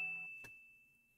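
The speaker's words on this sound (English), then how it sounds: "That OG kind of like streamer ding right there." A single bright streamer-style ding notification chime rings out clearly and fades slowly, with a soft click partway through and nothing else around it.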